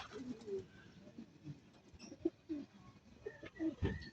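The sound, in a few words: racing pigeons cooing in loft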